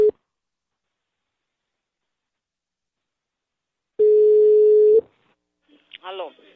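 A telephone call is placed: a short tone, a pause, then a steady one-second ring tone on the line, followed by a brief burst of dialing or connection chirps.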